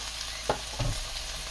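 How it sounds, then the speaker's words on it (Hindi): Okra and potatoes frying in a pan while being stirred with turmeric added, a soft steady sizzle with two brief scraping stir sounds, close and fairly quiet. "घुमाते रहना है, क्योंकि नीचे ये भिंडी और आलू लगने नहीं चाहिए।"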